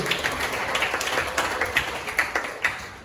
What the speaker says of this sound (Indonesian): Mari kita beri tepuk tangan yang meriah sekali lagi untuk Kak Jen Fani Karolin.